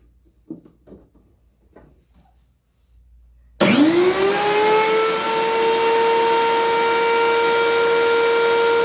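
A tile cutter whines up abruptly after a few quiet taps and then runs as a loud, steady high-pitched motor tone while cutting a facet into a small stone held with crude wood guides.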